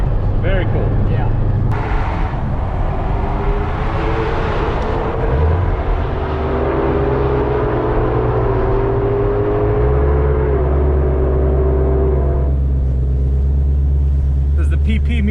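A 2020 Shelby GT500 in drag strip mode with launch control on, its engine rumbling loudly and held at steady revs with slight rises, heard from close inside the car at Sonoma Raceway.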